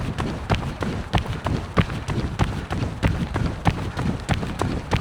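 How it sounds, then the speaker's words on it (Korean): Quick, regular running footsteps slap along a paved path by the Han River in Seoul at a brisk pace of about 188 steps per minute, close and crisp, with faint breath and wind between strides. "지금 이렇게 뛰는 게 제 발소리야"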